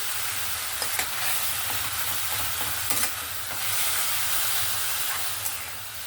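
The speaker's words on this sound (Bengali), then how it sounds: "ফোড়নের সঙ্গে কচু শাকটা ভালো করে নাড়াচাড়া করে নিয়েছি" Taro leaves (kochu shaag) stirred through a hot spiced tempering in a pan, a steady close sizzle with scraping spoon strokes and a few louder clatters at irregular intervals.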